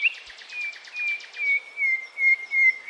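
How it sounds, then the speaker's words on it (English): A nightingale singing alone, a clear high whistled note repeated and held with rapid chattering pulses at the start, bright and close against silence. "Nightingales are known for their beautiful and complex songs, which they sing at night."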